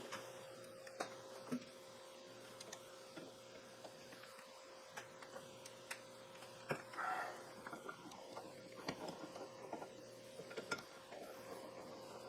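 A socket wrench unscrews a 5/8 bolt on a Triumph Spitfire brake caliper, heard as faint, scattered ratchet clicks and metallic ticks in a quiet workshop.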